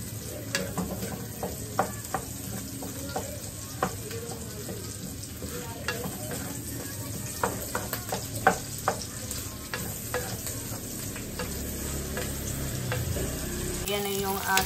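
Garlic and onion sizzle and spatter in hot oil in a pan, a steady close frying hiss dotted with frequent sharp pops and occasional stirring clicks throughout.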